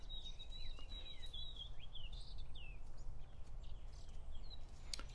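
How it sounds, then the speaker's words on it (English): Thin, high white-throated sparrow song phrases repeat faintly over a steady low rumble of wind or background noise, the bird sounding some distance away. "Listening to a white-throated sparrow sing."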